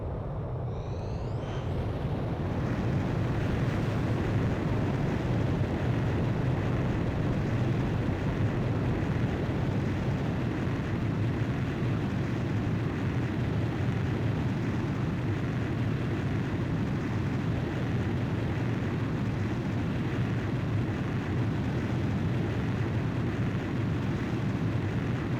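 Sustained loud jet engine roar from a fighter jet launched off an aircraft carrier catapult in the game Ace Combat 5, a brief rising whine at the start giving way to a steady, dense rumble that holds for the whole stretch with no talk.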